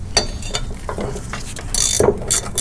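A 12mm box-end wrench ratchets against shock bolts on a Toyota FJ80 Land Cruiser, a few loud, close clicks and metallic scrapes in short bursts with no talking.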